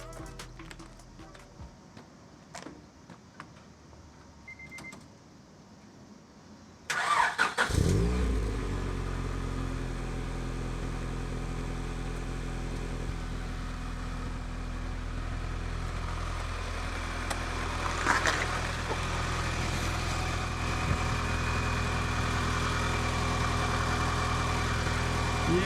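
A Honda DC2 fitted with a Tanabe Hyper Medallion exhaust starts after a few faint clicks and settles into a loud, steady idle with a deep drone. The engine runs on evenly, with a slight rise partway through.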